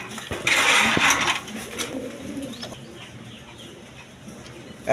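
Loft of pure white pigeons, with soft cooing amid a busy, rustling backdrop; a louder burst of fluttering noise early on, then quieter murmuring calls throughout.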